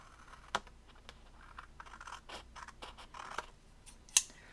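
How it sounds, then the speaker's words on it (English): Scissors trimming excess card paper at a crafting table: a series of quiet close snips and paper rustles in uneven rhythm, ending with one sharper clipped cut. "I'm going to trim with my scissors."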